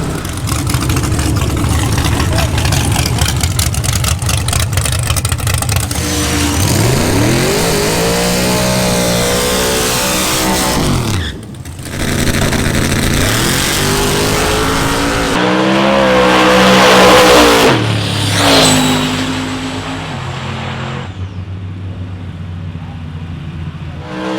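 A Camaro race car at LS Fest blasting down a drag strip, its engine roaring loud and continuous as it climbs through rising gears with brief shift breaks, then fading as it pulls away.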